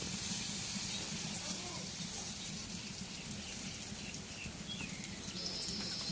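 Oil hitting a hot wok, a dense, steady hiss that runs without a break, close and fairly quiet, with faint voices underneath.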